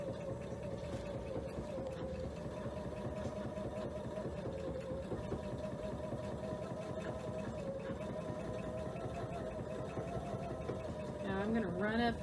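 A sewing machine stitching a quilt during a free-motion quilting demo produces a continuous fast mechanical whir with a rapid needle rhythm at moderate loudness, growing slightly louder near the end.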